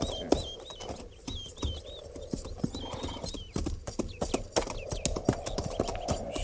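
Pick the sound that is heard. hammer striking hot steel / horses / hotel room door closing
horses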